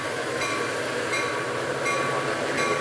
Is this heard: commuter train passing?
yes